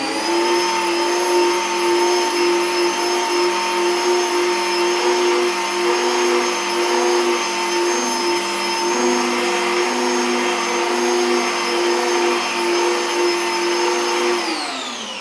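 A rotary polisher runs on car paint as a loud, steady, close mechanical whine with a constant tone that holds for the full length before slightly winding down at the very end.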